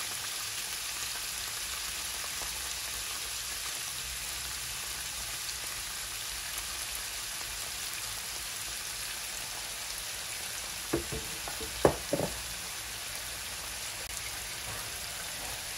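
Tuyo, dried fish, fries in a pan with a steady, even hiss of oil that runs the whole time, a few sharp pops and clatters near the end.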